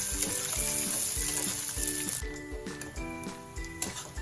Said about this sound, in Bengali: দিয়ে দেবো পেঁয়াজ কুচানোটা। একটু লাল করে ভেজে নিই